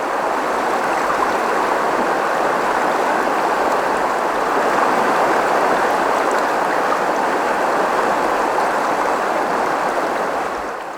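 A river in the Philippines flows over rocks in a broad, steady rushing wash that stays loud and constant throughout, with no voices over it.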